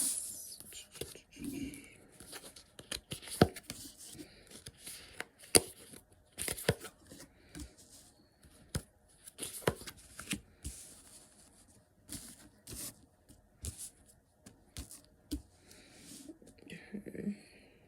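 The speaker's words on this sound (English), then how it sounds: "so let's lay out some cards" Tarot cards are shuffled and dealt out in a string of soft, crisp riffles, flicks and taps, close up and quiet, with hushed whispering between them.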